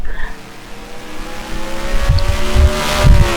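A stock car in a NASCAR-style Cup playoff race at Sonoma, from a racing video game, roars past with rising engine pitch and a brief tire squeal, loud and close with no talking.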